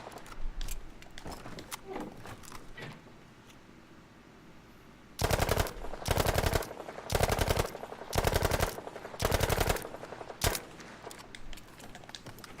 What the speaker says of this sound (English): This one definitely kicks all over the place to the left and right once the recoil delinearizes.